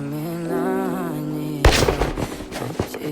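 A single loud gunshot rings out in a dramatic scene from the Dexter story, a sudden sharp blast breaking into music and trailing off in a rumbling echo.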